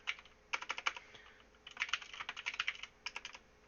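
Fast computer keyboard typing in bursts of rapid, close clicky keystrokes with short pauses in between, recorded alone with no talk.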